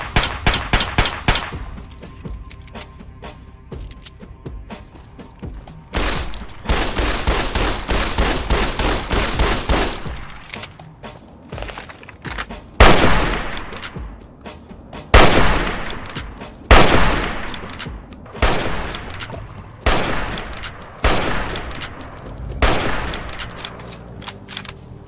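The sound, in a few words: re-recorded gunfire from Fallout 3 and Fallout New Vegas video games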